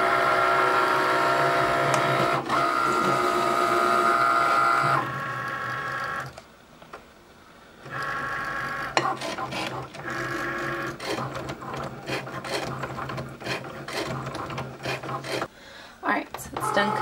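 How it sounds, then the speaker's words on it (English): A Cricut cutting machine slices vinyl on a mat, giving a steady motorized whir with shifting carriage runs, a short quiet pause midway, then more busy stop-start cutting passes close by. "Alright, so it's done cutting, so we can move our machine out of the way."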